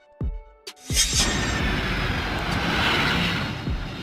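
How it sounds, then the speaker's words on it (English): A cargo jet for long-distance freight flights roars steadily, a broad sustained engine rush that swells and holds after a couple of sharp thumps at the start, loud and fairly close throughout. "A cargo jet is used to transport cargo on long-distance or international flights."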